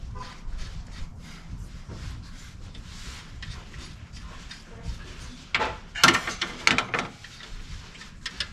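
Faint metallic ratcheting and clinking of a wrench working 14 mm alternator bolts on a 2010 Toyota Camry, steady low clicks building to a few louder clanks near the end.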